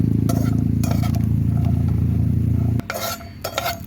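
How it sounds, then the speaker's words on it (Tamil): Whole cashews roasting in ghee in a pan for rava laddu, with a steady close frying sizzle under repeated scraping stirs and utensil clinks, then a quieter stretch with a few more stirs and clatters. "முந்திரி வந்து நான் கொஞ்சம் நெய்லேயே வறுத்து எடுத்துக்கிறேன்"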